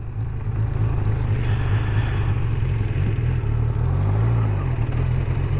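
A Kawasaki GPZ600R motorcycle on a test ride after a rebuild, its engine droning steady and loud up close under heavy wind rumble, the pitch swelling slightly with each gear change.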